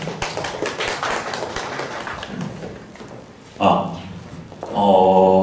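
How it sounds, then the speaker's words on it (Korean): An audience at a Korean venture forum applauds to welcome a presenter, a dense wash of clapping that thins out over the first few seconds. A voice then starts speaking through a microphone. "큰 박수로 모시겠습니다"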